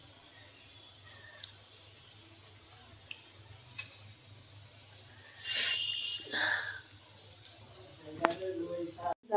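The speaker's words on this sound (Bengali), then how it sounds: "এদিকে আমি পেঁয়াজি ভাজছি অন্ধকারে।" Onion fritters (piyaji) frying in hot oil in the dark make a faint, steady sizzling hiss, broken by a few louder bubbling bursts and light clatters near the end.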